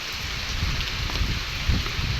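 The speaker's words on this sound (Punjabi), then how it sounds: "ਮੀਂਹ ਪੈ ਵੀ ਬਹੁਤ ਤੇਜ਼ ਰਿਹਾ ਬਹੁਤ ਤੇਜ਼" Heavy rain pours steadily on a village on a dark late morning, a dense, continuous roar of drops with a few louder splashes and no voices.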